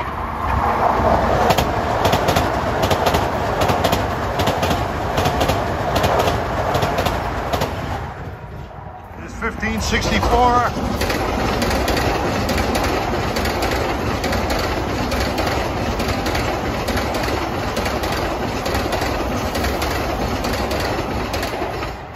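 A Long Island Rail Road train running Grand Central to Ronkonkoma rumbles past at Elmont, a loud sustained roar with rhythmic wheel clatter and a brief dip midway, birds faintly audible.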